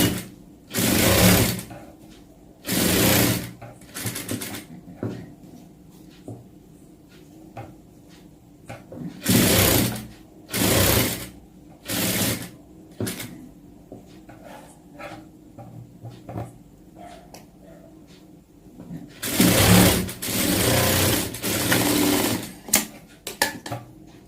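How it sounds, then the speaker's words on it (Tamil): A sewing machine stitches fabric in several loud bursts of a few seconds each, with quieter handling sounds and pauses between runs. It is close and alone, with no voices. "மறுபடியும் நான் உங்களுக்கு தையல் போட்டு காமிக்கிறேன்"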